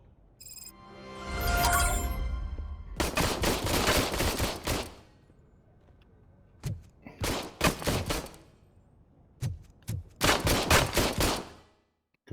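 Gunfire in the video game Robocop: Rogue City, loud automatic bursts and rapid shot volleys coming in several separate clusters with short quiet gaps between, close and harsh, no talking.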